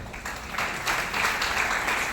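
Audience applause from a crowd at a talk, a steady wash of clapping that holds at an even level for the whole stretch with no voices over it.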